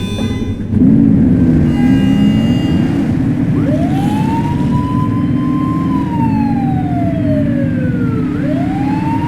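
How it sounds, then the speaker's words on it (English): A police car siren in The Precinct, a 1980s policing game, wails loud and close with long rising and falling sweeps, heard alone over the steady drone of the vehicle's engine. "Turn that siren off. We don't need it on right now."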